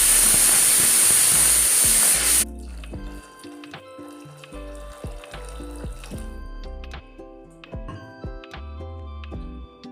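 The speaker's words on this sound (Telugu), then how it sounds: "చింతపండు వేసుకున్న తర్వాత మనకు సాంబార్కి కావలసినటువంటి క్వాంటిటీ ప్రకారంగా వాటర్" Water poured into a pot of drumstick sambar with tamarind, loud and rushing at first and then cutting off abruptly, followed by soft bubbling and hissing.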